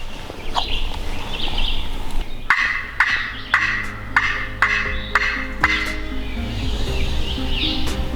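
A turkey gobbles in a series of sharp, evenly spaced calls, loud and fairly close, over steady outdoor background noise on a spring turkey hunt in the Hocking Hills.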